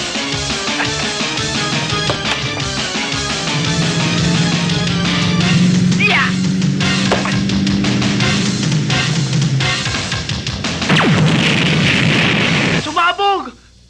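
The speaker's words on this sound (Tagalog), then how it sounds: "Sumabog!" A loud cinematic explosion bursts in a 1991 Filipino comedy film, a heavy boom with crackling debris rolling on for several seconds amid shouting voices before cutting off abruptly.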